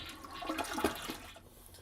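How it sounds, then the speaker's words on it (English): A household toilet flushes to drain water from the bowl during a repair, a single rushing, gurgling surge close by that rises and then tapers off. "now I'm going to flush to get some of the water out"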